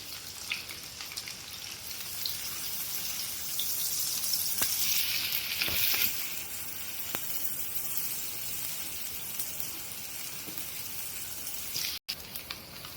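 Onion and garlic fry in hot oil for beef kala bhuna, giving a steady close crackling sizzle like light rain, with occasional stirring scrapes and no talk.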